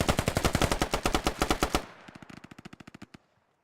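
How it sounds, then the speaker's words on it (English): Small arms fire rattles in a video game skirmish: a loud rapid burst of evenly spaced shots that then drops to quieter, more distant firing before stopping. "You can shoot through these walls with just small arms fire."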